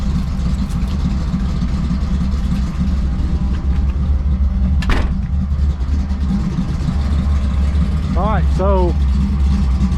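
A 1979 Ford F100 truck with a 408 stroker engine rumbles steadily at idle close by, a continuous loud low drone throughout, with someone talking briefly at the start and a short chirping sound near the end.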